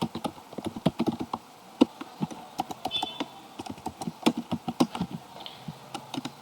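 Someone types a show running config command on a computer keyboard, producing quick irregular clicks and clacks close by, with no voice.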